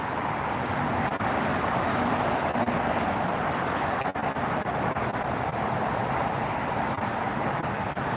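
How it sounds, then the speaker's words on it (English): A Volaris airliner taxiing at LAX airport, a dense steady engine roar and rumble with wind noise on the microphone, loud and unbroken throughout with no voices. "Volaris taxiing now."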